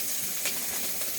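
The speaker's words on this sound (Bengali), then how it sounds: "এখন আবার যে জাটকা মাছটা একটু ভেজে নিবে, হালকা সামান্য একটু ভেজে তেলটা দিয়ে দিচ্ছে।" Jatka fish frying in oil for a village-style curry, heard as a short, fairly soft, steady sizzle and hiss.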